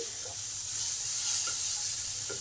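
Chopped onion and mango pulp frying in a pan while being stirred, a steady soft sizzle and hiss with a few faint scrapes of the spoon, close and even, with no voices.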